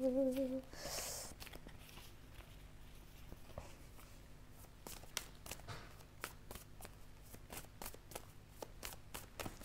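Tarot or oracle cards shuffled for a reading, a soft, close, repeated riffling and tapping of card stock at low volume, with no talk.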